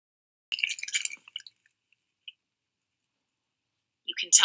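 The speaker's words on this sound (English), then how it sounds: "Let me show you the pills. You can see me pouring them" Lyrica pills poured out in a short burst of light clicking rattles, then a couple of isolated clicks and a brief renewed rattle at the end, close and otherwise quiet.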